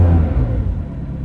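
A McLaren 720S engine rumbles steadily at close range, a low continuous idle with a slight rise in revs, with no voices.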